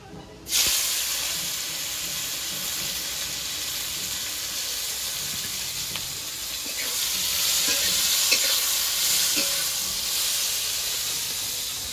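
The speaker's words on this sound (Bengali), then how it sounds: "এবার উচ্ছেটা ভেজে নেব।" Bitter gourd fries in oil in a pan, a steady, close, loud sizzle with a dense hiss that swells slightly midway, alongside faint stirring, with no voices.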